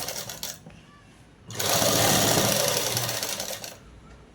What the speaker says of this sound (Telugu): కుట్టు అనేది వేసుకుంటూ రావాలి.